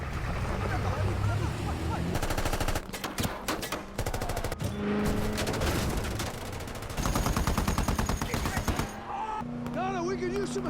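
Gunfire in an action film chase scene: rapid bursts of automatic shots rattle in clusters over engine noise and a dramatic score, with a voice heard intermittently.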